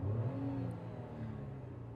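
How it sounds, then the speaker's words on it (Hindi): From inside the cabin of a Tata Punch car, the engine gives a steady low hum with a slight rising whir, close and continuous at moderate loudness with no talking. "मैं आपको इसकी इंजन की नॉइस सुनाता हूँ। अभी डैम्पिंग होने के बाद इतनी आवाज है"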